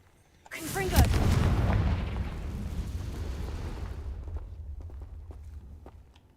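A Confringo spell fires in Hogwarts Legacy, a loud crackling blast that erupts suddenly and rumbles on for several seconds before fading into low ambient noise.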